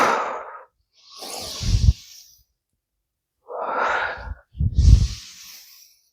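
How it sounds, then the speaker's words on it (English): Deep, effortful breaths during a workout cool-down, a long inhale and exhale, a pause, then a second strong inhale and exhale, close and loud with no talking. "A few big inhales and exhales."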